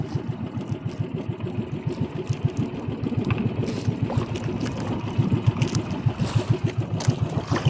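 A wooden fishing boat's motorboat engine idles in the Philippines, a steady rapid low chugging that holds close and fairly loud throughout, with small bumps and knocks from the boat over it.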